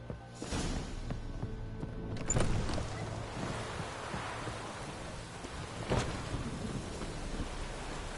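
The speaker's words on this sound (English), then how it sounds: "Looks like rain." Steady rain in Witcher 3 with a rumble of thunder near the start and another soft roll around the middle, the downpour continuing as an even wash throughout with no voices.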